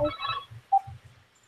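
A mobile phone sounds during a work-from-home video call, giving a short electronic ringtone between brief bursts of muffled talk and a sharp single tone near the middle.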